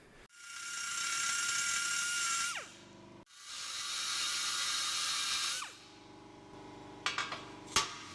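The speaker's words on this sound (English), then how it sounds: "I'm going to have to use a die grinder to be able to get in there and get those welds out" A die grinder cuts out tack welds on a steel hay bale spear, two long high-pitched whining bursts that wind down between runs, followed by a few metallic clinks, close and without talk.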